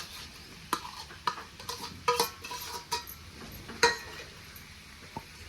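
A spoon stirs cooked potatoes into onions and turmeric in a pan, giving soft scraping and scattered sharp clinks of metal on the pan, sparse and close, with a faint sizzle beneath.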